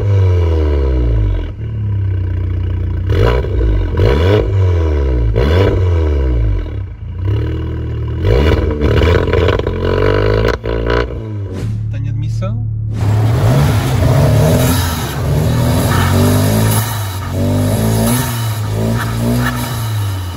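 Seat Leon Cupra 5F with a modified exhaust, roughly 400 hp, revving repeatedly in loud rising and falling bursts, then holding a steady drone with sharp crackles, close up throughout.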